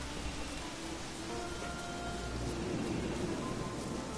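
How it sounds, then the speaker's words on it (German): Steady rain hisses without a break in The Witcher 3, an even wash of falling drops with a low rumble underneath and no voices. "In dem Spiel pisst es irgendwie die ganze Zeit."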